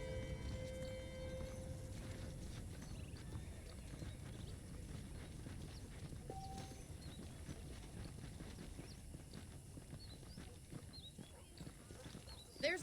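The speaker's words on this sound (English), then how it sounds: "The horses are saddled up over here" Saddled horses clip-clopping across the ground in the video game Red Dead Redemption, a steady run of hoof beats at moderate distance that continues throughout, with a voice speaking over it.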